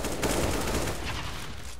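Dense, continuous gunfire fills the space in the shooter game CS:GO, a loud, unbroken rattle of shots with no clear gaps and no voices over it.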